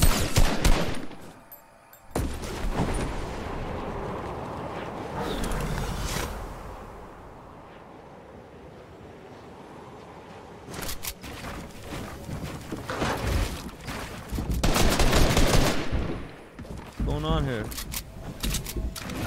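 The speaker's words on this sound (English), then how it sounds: "Where am I getting shot at from?" Gunfire in Fortnite solo arena, bursts of rapid shots and clattering weapon sounds, loud and close, with a player's excited voice talking over much of it.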